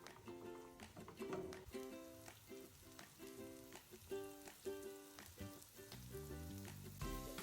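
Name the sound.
grated garlic and ginger sizzling in hot oil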